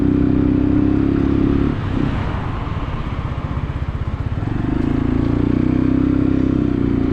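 A Drift L motorcycle engine runs and revs while riding, a loud steady drone that dips into rough, pulsing throttle changes in the middle before settling back to a steady hum.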